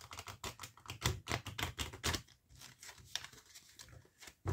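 A deck of tarot cards is shuffled at close range, making rapid, crisp riffling flutters in bursts that thin out into lighter taps.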